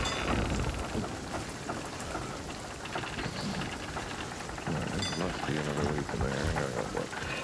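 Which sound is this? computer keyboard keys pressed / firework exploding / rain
rain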